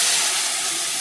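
Spice paste of cumin and other ground spices in a frying pan hisses loudly the moment water is added, a steady close sizzle with no gaps.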